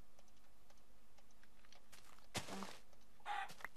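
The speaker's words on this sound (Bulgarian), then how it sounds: "Пиле." Soft clucking of a chicken in Minecraft, with faint clicks and taps of keyboard typing and a few brief thuds.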